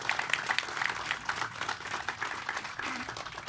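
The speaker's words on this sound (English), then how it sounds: "let's give them a round of applause" An audience at a September 11 remembrance ceremony applauds for the military, a steady, fairly faint wash of clapping heard from a distance throughout.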